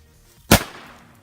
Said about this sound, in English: we're gonna see what happens when you add firecrackers to a guitar